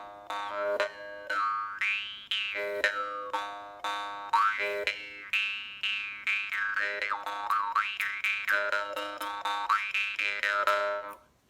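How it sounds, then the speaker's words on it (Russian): A metal plate jaw harp plucked in a quick twanging rhythm, its bright, buzzing overtones sliding up and down like a shifting vowel, played close and alone for about eleven seconds. "Есть также пластинчатые варганы."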